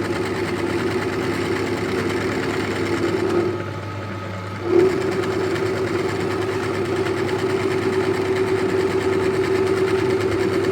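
A lathe-type machine trims and levels the ends of bike frame tubes in a custom bike workshop, a continuous loud mechanical hum with a steady tone that dips briefly and then resumes.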